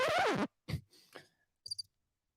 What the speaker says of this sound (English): Oh, we got the Dan Jones Crickets back